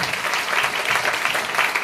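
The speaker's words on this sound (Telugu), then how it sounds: "గట్టిగా చప్పట్లు కొట్టి యేసుని మరొకసారి మహిమపరచుకుందాం." A church congregation claps loudly and steadily, a dense wash of many hands close by with no gaps, during a worship gathering in Kuwait.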